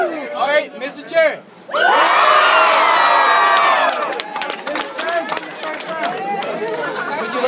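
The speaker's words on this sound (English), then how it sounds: "But scream if you like Byron. Scream now." A large crowd at a high school rap battle screams and cheers loudly for several seconds, then settles into excited chatter and scattered shouts.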